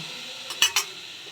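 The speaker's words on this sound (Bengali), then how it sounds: "এবার চালটা কপি আলুর সঙ্গে" Rice stirred and fried in a pan with cauliflower and potato, a couple of quick metallic spoon scrapes against the pan over a faint steady sizzle, close and fairly quiet.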